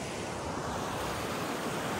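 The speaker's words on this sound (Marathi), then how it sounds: "छोटेसे धबधबे आहेत धबधबे खतरनाक असं सीन" Small waterfalls at an outdoor fishing spot, a steady broadband rush of flowing water, dense and even, with no voices.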